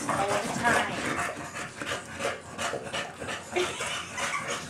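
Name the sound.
bulldogs playing and panting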